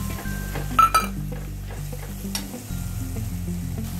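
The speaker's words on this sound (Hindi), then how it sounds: "अभी हम ऐड करते हैं ये काजू का पेस्ट, ये डाल के हमें अच्छी तरह भूनना है।" Cashew paste frying in a masala base for fish kurma, giving a steady close sizzle with stirring and a few clinks of a utensil against the pan.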